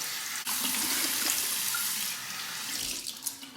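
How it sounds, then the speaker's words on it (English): Cold tap water runs steadily from a faucet into a sink for a final face rinse after a wet shave, a continuous close splashing stream with slight shifts near the end. "Okay, rinse. A final cold water rinse."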